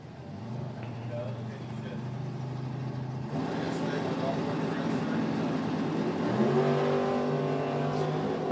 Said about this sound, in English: Ryan Barnes with a great big wheelie